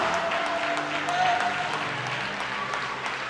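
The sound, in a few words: congregation applause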